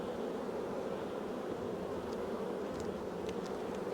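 Many honey bees buzz around a crowded hive in a constant, close hum, with faint flits of individual bees passing near.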